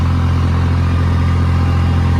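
Steady loud diesel chug from a 5210 tractor held at 1600 rpm in first medium gear, the low rumble pulsing evenly throughout with light mechanical clatter and no voices.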